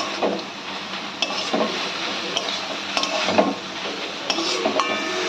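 Banana flower being stirred and sautéed with ginger paste in a pan, a steady soft sizzle broken by repeated scraping strokes of a spoon, close and fairly loud.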